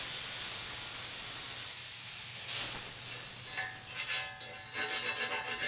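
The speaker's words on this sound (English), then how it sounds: "Scraping out those scatter balls again." A wood chisel scrapes scatter balls out of a propane forge in a shop, giving hissy scraping strokes with a brief pause and a cluster of short metallic scrapes toward the end.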